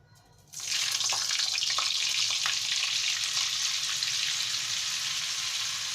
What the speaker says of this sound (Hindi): उसके साथ ही इसमें हम बटर डाल लेंगे।